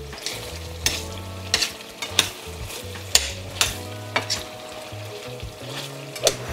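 Beef tapa frying in a pan, stirred with a utensil that knocks against the pan in regular sharp clacks roughly every half second to second over a constant sizzle, heard close with no speech.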